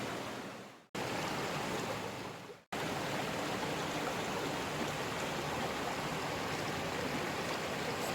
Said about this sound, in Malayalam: ഇവിടെ ഒരു നല്ലൊരു വെള്ളച്ചാട്ടമുണ്ട്